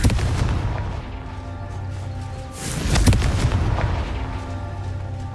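Confringo fire spell explosions in Hogwarts Legacy: a dense, rumbling blast sound with a louder booming burst midway, heavy and close, with no talking.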